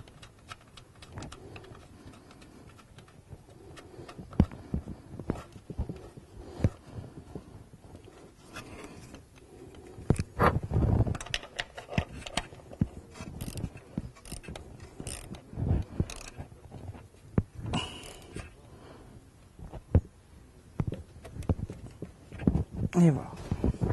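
A ratchet tightens a 10 mm screw on a Smart Fortwo during a spark plug change, giving bursts of quick, close clicking between pauses while someone talks throughout.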